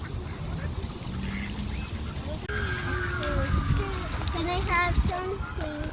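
Ducks quacking at a park pond in Reid Park, Tucson, Arizona, with a series of nasal quacks over steady outdoor ambience while children and adults talk nearby.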